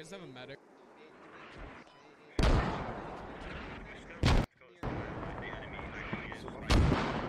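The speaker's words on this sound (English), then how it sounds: "Alpha's just throwing mortars wherever he can." Mortar rounds land in the Squad Ops video game, with several heavy blasts breaking in sharply between quieter rumbling stretches and someone talking over parts of the barrage.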